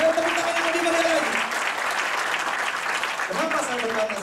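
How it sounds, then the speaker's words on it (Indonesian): A church congregation clapping steadily through a sermon for about four seconds, while a preacher's voice talks over the start and the end. "tepuk tangan yang paling kencang bagi yang sekitar kita"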